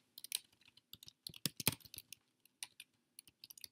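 Fingers tap out a command on a computer keyboard, a quick burst of crisp close clicks in an irregular rhythm with short pauses, no voices.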